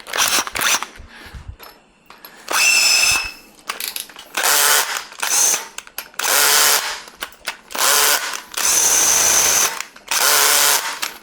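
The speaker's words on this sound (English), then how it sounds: "we are going to have to step it up to the next drill bit" A power drill fitted with a larger bit whirs in repeated bursts of a few seconds each, separated by short pauses and small clicks and taps, close and loud.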